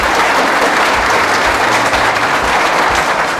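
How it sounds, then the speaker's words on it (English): Students at a defence academy ceremony give a big round of applause, a loud, steady crowd clapping that continues evenly throughout. "a big round of applause I'll expect from all students for Gautam Kumar."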